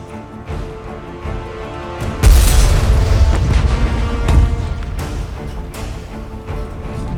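A heavy booming blast bursts in suddenly, followed by a rumbling sustained roar and a second thump, like cannon fire amid battle noise.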